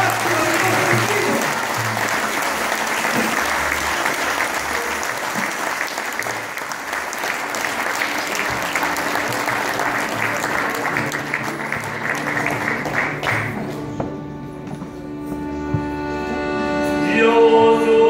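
A crowd applauds a folk group at the grand finale of a folk show, a loud, sustained wash of clapping that runs for about fourteen seconds, then fades as music and voices rise in the last few seconds.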